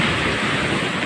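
Strong sea waves surge in a steady, broadband wash of surf, close and fairly loud over a short stretch with no voices.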